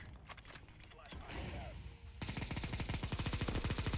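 Gunfire in Counter-Strike, with rapid bursts of shots that turn into a dense, fast automatic stream near the end, heard alongside other game noise and chatter.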